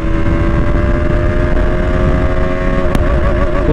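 A KTM Duke 200 motorcycle accelerating hard through its gears on a top speed run, its engine a loud, steady, close drone with a brief shift blip near the end.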